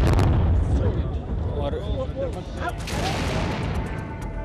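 Gunfire and blasts during the attack on the Indian Parliament in New Delhi come as rough bursts of noise in news footage, with a reporter talking over them throughout.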